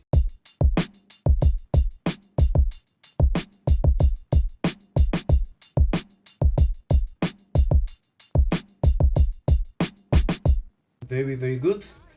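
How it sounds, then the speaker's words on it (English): Humanized hi-hats programmed in FL Studio: crisp, fast ticking over a looping kick and snare groove, steady and loud, with a voice speaking briefly as the pattern stops at the end. "so my hi-hats will sound like this"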